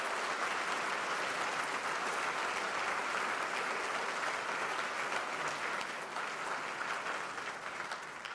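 Guests at a military charity fundraising dinner break into sustained applause, a thick, even roar of many hands clapping from start to finish with no speech on top.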